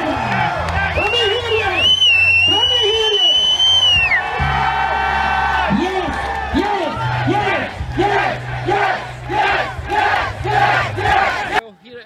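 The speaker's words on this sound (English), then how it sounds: "There's a huge crowd behind us." A huge crowd at a nighttime political rally in Edinburgh roars with cheers, whoops and chanted shouts, loud and close, rising in rhythmic bursts throughout.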